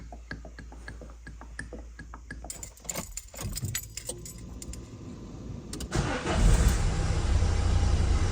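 Keys jangle and click in the ignition of a Nissan NV200 van with a 1.5 dCi diesel engine, then the engine cranks, catches and settles into a loud, steady idle close by.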